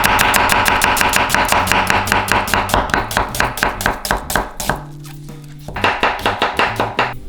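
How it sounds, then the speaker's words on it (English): A knife chopping an onion into thin lyonnaise slivers on a board, loud close rapid regular taps in a fast even rhythm, a brief pause, then another quick burst of cuts. "Just gonna give this a lyonnaise cut, which is when you go around the onion and you get really nice little slivers"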